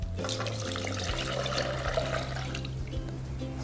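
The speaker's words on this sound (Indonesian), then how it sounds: "Setelah tercampur rata, masukkan air putih." Plain water pours steadily into a Chocolatos chocolate pudding mixture, a continuous close splashing stream that runs without pause for the whole stretch, with no talking.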